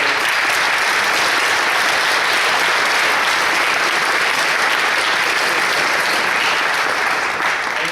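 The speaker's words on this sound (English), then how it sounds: "So let's give them a round of applause" Loud, sustained applause from an audience at a National Honor Society event, honoring the two advisors; a thick, even roar of many hands clapping close and continuously for the full stretch, with no talking.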